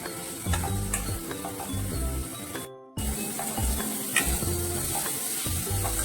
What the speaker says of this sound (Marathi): तुम्हाला यामध्ये लसूण आणि कढीपत्ता टाकून त्याला मिक्स करून घ्यायचं आहे